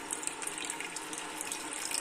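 Water is poured or added in a home kitchen as a steady, close splashing trickle that runs throughout without pause, with no voices over it.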